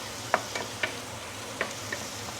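Garlic pork sizzles in a pan over medium-high heat, a soft steady frying hiss broken by several sharp clicks and scrapes of stirring.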